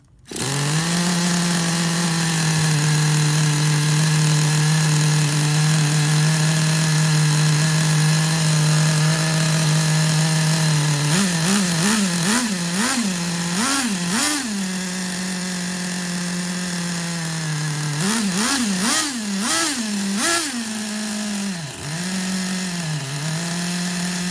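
A vintage Traxxas Nitro Sport RC car's small nitro engine runs loud and close, holding a steady high idle buzz and then revving up and down in quick bursts twice before settling again.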